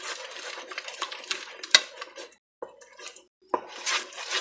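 A spoon scrapes and clatters in a pot as peanut butter is stirred into a boiling no-bake cookie mixture, with irregular close knocks and scraping strokes separated by brief quiet gaps.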